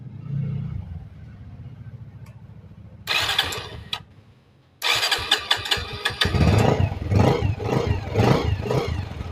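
Bajaj Pulsar 150 motorcycle cranked on its self-starter: a low idle-like drone, then bursts of starter whir and a brief gap before the engine catches into a loud, rough, pulsing run, heard up close with no talk.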